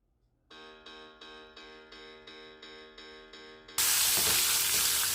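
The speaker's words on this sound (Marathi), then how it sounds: "कढीपत्ता टाकते आणि हे चांगलं आपल्याला परतून घ्यायचे." Curry leaves hit hot oil in a pan with a sudden, loud, sustained sizzle, preceded by a run of about eight evenly spaced electronic beeps.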